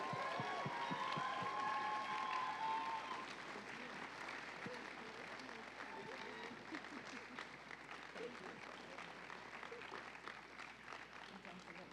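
An audience at a folk festival gala performance in Burley applauds Christine with a dense, sustained wash of clapping that fades slightly after the first few seconds, with some cheering and voices mixed in.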